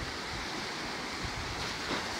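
Big ocean waves surging beside a small boat near shore, a dense continuous roar of surf and wind rushing close to the microphone.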